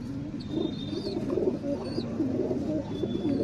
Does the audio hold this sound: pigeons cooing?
yes